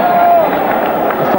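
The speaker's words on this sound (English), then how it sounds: "listen to the crowd" Football stadium crowd at a 1998 friendly between Yugoslavia and Brazil, a loud steady roar of many voices at the final whistle, a whistle tone audible at the start.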